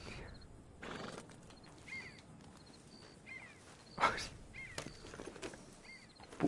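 Horse in Red Dead Redemption 2 whinnying and snorting in short bursts amid hoof clops and rustling, fairly close, with faint background voices.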